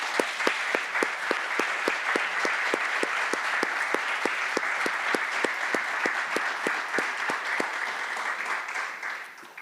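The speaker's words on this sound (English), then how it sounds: "please give my brother Jake a round of applause for his career in uniform and for his service to our nation" An audience applauds at a military retirement ceremony, a steady wash of many hands clapping with individual claps standing out, holding level for most of the stretch before easing slightly at the end.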